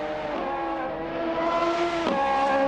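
Video game race car engines drone and whine continuously, pitch rising and falling as cars rev and pass, a steady loud roar with no voices.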